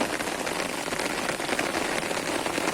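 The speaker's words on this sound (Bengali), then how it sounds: "তার ভিতরে আবার দেখেন এই যে বৃষ্টি আসলো।" Steady rain falls on a radish field outdoors, a dense, even patter of drops on leaves and soil, close and continuous with no voices.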